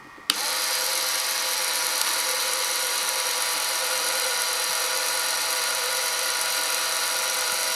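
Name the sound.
play house lever mechanism in reciprocating motion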